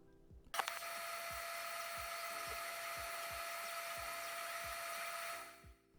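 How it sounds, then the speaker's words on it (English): A laser cutter runs at a steady high whine while cutting art pieces, with a repeating soft low thump under it about every half second, starting abruptly and cutting off near the end. "Okay, time to take this thing over to the laser cutter."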